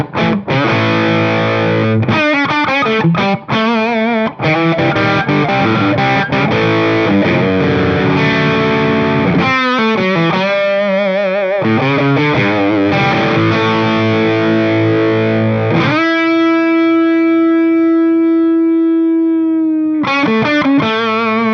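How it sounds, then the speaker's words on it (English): Gibson Les Paul Junior electric guitar driven through a Tube Screamer overdrive with the tone rolled back, playing thick, mid-heavy distorted riffs and chords, ending on a long sustained ringing chord before picking resumes, loud and close with no talking. "So I've got a tube screamer for a bit of overdrive, and if I turn the tone down to about 5"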